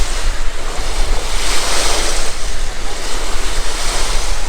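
Sea waves surge and wash continuously on a summer shoreline while strong wind roars across the microphone, loud and close, with no pauses.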